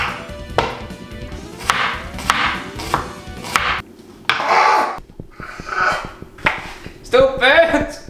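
A knife chops onions for spring rolls on a cutting board in quick, uneven bursts of crisp taps, loud and close, with a few pauses and clatters between runs.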